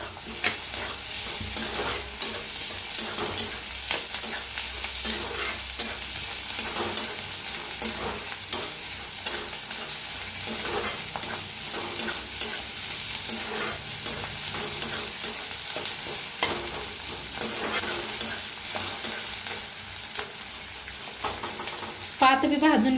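Spring onion and onion frying in a pan for a stuffed-eggplant bharit, a steady loud sizzle with stirring scrapes running throughout, close to the pan.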